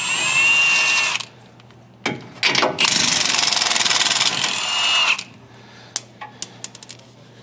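Bolts coming off the cross member of a 2024 Ford F-350 Super Duty during a snowplow install: loud, close bursts of a whirring power tool with a rapid rattling stretch, then a few light metallic clinks.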